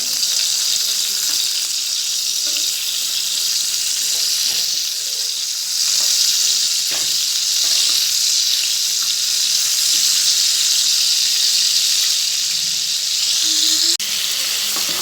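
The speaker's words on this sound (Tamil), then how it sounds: "இதை நல்லா பரட்டி போட்டு பொறிச்சுக்கோங்க" Dried fish (nei meen karuvadu) frying in hot oil, a loud continuous close-up sizzle and crackle with occasional stirring scrapes, steady throughout with no talking.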